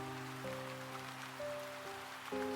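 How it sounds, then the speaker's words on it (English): Rain falls steadily on tombstones in the video game Xavier King of Darknight, a soft, even hiss at low volume with sustained musical tones held beneath it. "The rain washes away the dirt from the tombstones to reveal the text carved into them."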